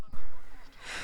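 A single sneeze, a sharp close burst of breath after a quick intake, trailing off into a breathy hiss.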